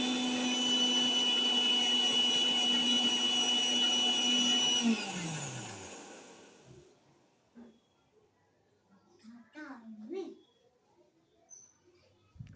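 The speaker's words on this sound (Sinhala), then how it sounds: "පොලොස් එකට පොල් ටික බෙන්ඩර් කරගමු" Coconut being blended in a kitchen blender, a steady loud motor whine that winds down and stops after about five seconds, followed by quieter background sounds and brief voices.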